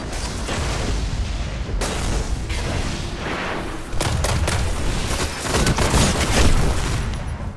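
A grenade blast in the video game Destiny, set in a Crucible Control match on Xbox One: a dense, noisy wash of booming, thudding explosive bursts that carries on loudly throughout, with sharper cracks near the end.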